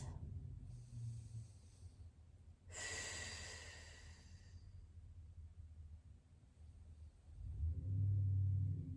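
Slow, relaxed breaths are drawn and released in child's pose during a yoga routine, heard as soft airy inhales and exhales over a low rumbling background, with a deeper rush of breath near the end.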